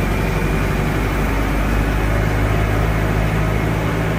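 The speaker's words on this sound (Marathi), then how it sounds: "आपल्या गाडीचं इंजिन आहे." Car engine running steadily inside a vehicle on a family road trip, a loud continuous low rumble with broadband road noise throughout and no talk.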